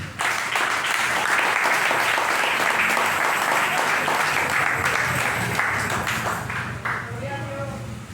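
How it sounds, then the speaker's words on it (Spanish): A congregation at an evangelical preaching service applauds for Jesus Christ, a dense, steady roar of clapping that holds for several seconds before easing off. "den un aplauso a Jesucristo"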